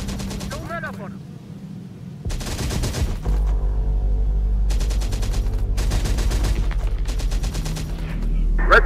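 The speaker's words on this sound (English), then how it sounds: "Suppressing fire. Don't let up on them." Bursts of automatic gunfire in a Terminator: Dark Fate - Defiance battle, with loud sustained volleys over a low rumble and voices speaking in between.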